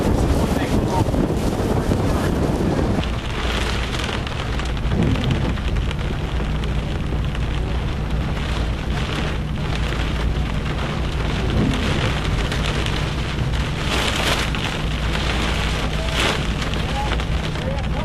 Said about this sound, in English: winds are getting up towards tropical storm force out here right now